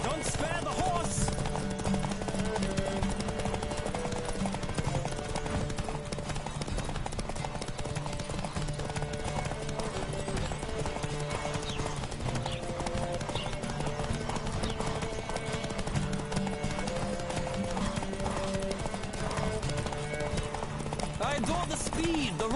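Horse hooves clip-clopping at a steady gallop in The Witcher 3 game, a continuous rhythmic beat under busy game music and ambience throughout, with a possible voice mixed in.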